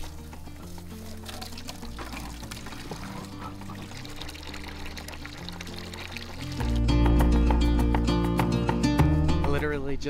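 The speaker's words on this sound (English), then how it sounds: "We gotta fill the sheep water here, buddy." Water pours steadily into a sheep trough, a continuous splashing fill that grows louder partway through, with music playing underneath.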